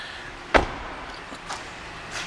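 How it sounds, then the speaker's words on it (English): The front passenger door of a black 2013 Hyundai Sonata Limited 2.0T opens with one sharp latch click followed by soft, fainter mechanical clunks in a quiet setting. "you can open the door from this side too"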